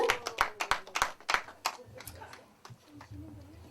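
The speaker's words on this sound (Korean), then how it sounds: "여러분 의뢰의 박수, 건강의 박수 한번 주시면 감사하겠습니다" Audience applauding a singer at a Korean variety stage show, a burst of sharp hand claps that thins out over a few seconds, with a host's voice talking over it.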